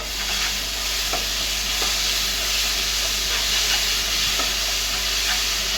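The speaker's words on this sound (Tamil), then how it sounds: "இப்போ நம்ம வந்து காடையை வந்து க்ளீன் பண்ணி வச்சுருக்க காடையை போட்டுக்கலாம்" Cleaned quail hitting a hot pan for kadai gravy, giving a steady loud sizzle and frying hiss that runs throughout, with a few soft stirring clicks.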